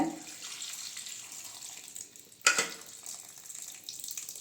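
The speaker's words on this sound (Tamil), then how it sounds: "அந்த தண்ணி சேர்த்துக்கோங்க" Cooked dal water poured from a pot over chopped vegetables while making Tamil-style paruppu sambar, a steady close, soft liquid pouring and splashing with a brief sharper clatter midway, no talking.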